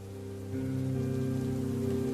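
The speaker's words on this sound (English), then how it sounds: "the soft pitter-patter of raindrops" Soft, steady pitter-patter of raindrops falling on a surface, a continuous gentle wash of rain that swells slightly after the first half second, with no voices.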